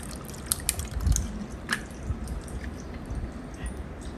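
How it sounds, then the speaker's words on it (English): Lemonade poured from a pitcher over ice with cucumber and lemon slices in a glass, giving soft liquid trickles, drips and faint clinks across a few seconds with a low background hum, fairly quiet and close, no talking. "now I'm ready to pour in the lemonade"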